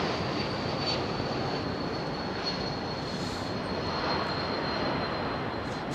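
A Boeing 747 freighter on approach to London Heathrow passes as a steady, broad jet roar with a thin high engine whine, loud and constant for several seconds without any talk.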